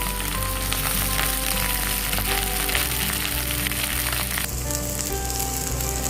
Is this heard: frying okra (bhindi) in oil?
yes